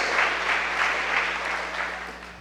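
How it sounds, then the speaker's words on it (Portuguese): A church congregation claps together in a sustained, dense burst of applause that fills the room evenly before tapering slightly toward the end. "Se assenta e aplauda o nome de Jesus."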